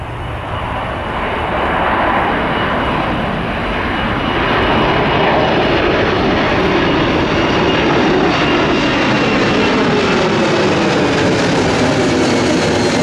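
Jet airliner taking off at Miami International Airport, a loud, building engine roar that swells and sweeps across as the plane accelerates past, sustained and close for the whole stretch with no talk.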